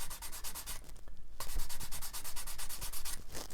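A sanding stick files down a plastic wing on a Tamiya 1/32 scale Vought Corsair model kit, giving steady rapid rasping strokes in a close, continuous rhythm with a short pause partway through.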